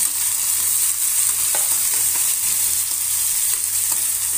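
Onion and peanuts sauté in a pan for sushila, giving a steady, bright frying hiss with a few faint stirring taps, close and continuous, with no voices.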